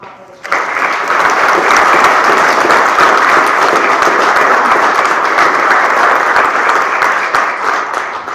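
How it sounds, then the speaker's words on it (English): Sustained applause from an audience at a Buckeye school board meeting rises abruptly and holds loud and dense for several seconds, with many hands clapping at once. "let's give them a round of applause"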